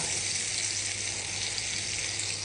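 Food frying in hot fat in a roasting pan with rosemary sprigs, a steady bright sizzle that holds evenly throughout, close and fairly loud with no voices.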